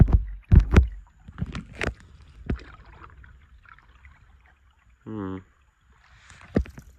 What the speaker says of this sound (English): I think that was my water. My paddle in the water.